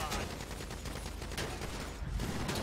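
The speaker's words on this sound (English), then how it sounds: "Hey, you're getting shot." Gunfire in a video game rattles in a dense, continuous barrage, loud and close for the whole stretch with barely a pause.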